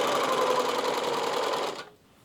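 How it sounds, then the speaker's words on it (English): A serger overlocker stitches with its threads in a fast, even mechanical whir, close and steady before it abruptly stops. "I've tied on all of the threads and I have actually turned my machine on"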